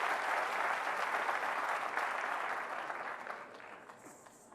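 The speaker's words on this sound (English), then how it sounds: "I think we could have another round of applause for all the performances together." A university audience applauds after stage performances, a broad wash of clapping that holds steady and then gradually fades away toward the end.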